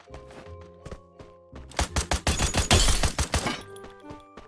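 Gunfire in the Free Fire video game: a rapid burst of many close, punchy shots in quick succession, framed by quieter in-game sounds before and after.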